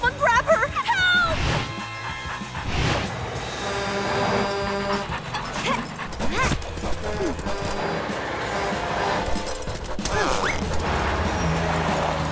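Puppy barking and yipping in a Polly Pocket cartoon, several sharp yips amid busy cartoon sound effects, music and character voices.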